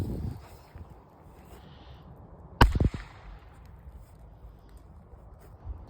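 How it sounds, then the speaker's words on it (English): A TNT M1000 firecracker explodes outdoors in one loud, sharp bang with a short rumbling tail, standing out against quiet wind-blown background noise. "Up next, we have the TNT M1000."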